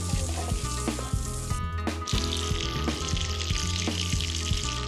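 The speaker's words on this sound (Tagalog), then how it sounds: "Ang uong maili, iginisa sa bawang at sibuyas." Mushrooms sauté in a pan with garlic and onion, a loud, steady sizzle and crackle of frying with occasional stirring scrapes, close up and uninterrupted.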